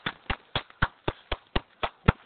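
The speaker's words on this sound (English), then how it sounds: "Aren't you gonna clap, Dad?" Nine single hand claps land at a steady, slightly slow rhythm, close and distinct, with quiet gaps between them and no talking.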